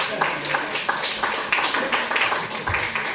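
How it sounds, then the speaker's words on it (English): Audience applause for a volunteer during a live talk on sound and music, a fairly close spread of hand claps in irregular bursts lasting a few seconds, with a faint murmur underneath. "So a round of applause, please,"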